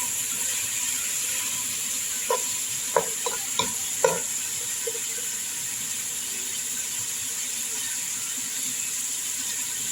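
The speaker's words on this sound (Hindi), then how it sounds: "हाई फ्लेम पे 1 से 2 मिनट हम इसको और स्टिर फ्राई करेंगे" Chicken and vegetables stir-fried in a pan over a high flame, a steady hiss of frying with a few sharp clinks and scrapes of a utensil stirring near the start, alone with no talk.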